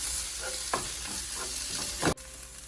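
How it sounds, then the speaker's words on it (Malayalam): Cubed tomatoes frying for chicken biryani hiss steadily in the pot while a spoon stirs in a few soft scraping strokes, ending with a sharper knock, close with no talk. "അതും കൂടെ ഞാൻ ആഡ് ചെയ്ത് കൊടുക്കുകയാണ്. ഇതിനെ നന്നായിട്ട് ഇളക്കി ഈ ടൊമാറ്റോ ഒക്കെ ഒന്ന് വെന്ത് വരുന്ന പോലെ ഇരിക്കണം."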